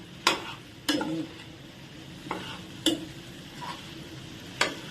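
A spoon stirs an ivy gourd and chana dal curry in a pan, scraping in about six separate close strokes over a soft sizzle, with no talking.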